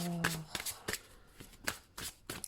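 A unicorn oracle card deck shuffled by hand in quick, rhythmic bursts of papery riffling, close up, with a brief voice at the very start.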